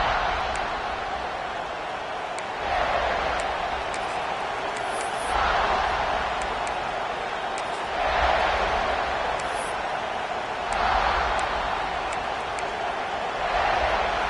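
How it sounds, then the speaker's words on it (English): A college football stadium crowd roars in waves, swelling loudly several times over a constant low murmur of thousands of fans, with faint whistles and cheers poking through. "This crowd ready to make its presence known."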